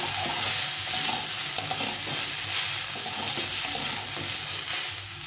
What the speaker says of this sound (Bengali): এভাবে একটু ভেজে নেব। এটা ভাজা হচ্ছে